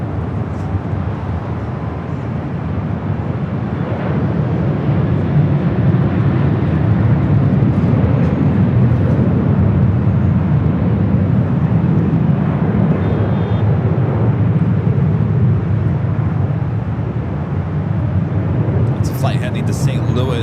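A Southwest Airlines 737-800 takes off from runway 24 left at LAX with a broad, steady jet roar that holds loud and constant throughout, heard from a distance with no voices over it.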